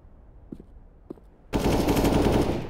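Gunfire in Counter-Strike: Global Offensive. A couple of faint clicks come first, then a sudden loud burst of rapid automatic fire carries to the end.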